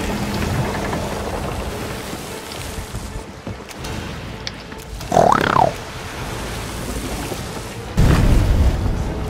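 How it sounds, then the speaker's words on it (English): A bomb exploding on a ship's mid deck in Sea of Thieves, a deep booming burst rising out of steady rain-like wash and game ambience, followed by another heavy low thud. "One more mid deck bomb."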